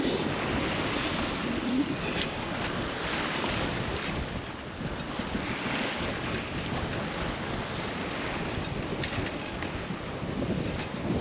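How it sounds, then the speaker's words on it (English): Strong wind of about 20 knots roars across the microphone while a sailboat runs at sea, a dense, unbroken rush of wind and water noise with waves washing along the hull and no speech. "About 20 knots of wind right now"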